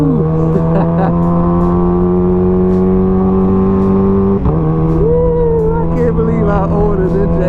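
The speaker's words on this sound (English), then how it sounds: "we are riding the Ninja" Kawasaki Ninja H2 motorcycle being ridden, a loud steady engine drone with a brief dip in pitch partway through as the revs shift, close and continuous with no talk.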